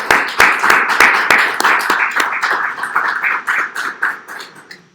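A small classroom audience claps for a student presenter: sharp, close, individual claps in a quick uneven rhythm that gradually thin out and fade.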